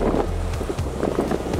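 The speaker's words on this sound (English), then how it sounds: "it's real windy" Heavy coastal wind on North Carolina's Crystal Coast during shark fishing buffets the microphone in loud, rumbling gusts, filling the short clip with low roaring noise.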